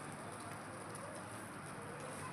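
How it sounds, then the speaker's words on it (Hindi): Steady rain patters continuously on surfaces outdoors in monsoon weather, an even hiss with no pauses and no voices. "बारिश हो रही है"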